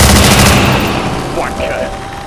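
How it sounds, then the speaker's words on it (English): XCOM 2 gunfire: a dense, loud burst of shots and booms fills the whole stretch, with a voice faintly mixed in. "Shoot to kill!"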